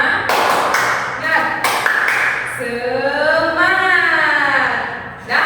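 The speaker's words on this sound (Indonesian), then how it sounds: "Tepuk semangat" Students in an Indonesian microteaching class perform the rhythmic 'tepuk semangat' clap, a few sharp claps in a quick pattern near the start, followed by group voices chanting together.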